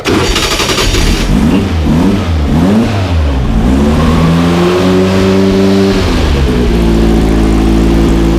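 A loud, cold 1969 Volkswagen Formula Vee race car engine runs roughly, its pitch wavering up and down with a few blips of throttle before settling into a steady, throaty idle.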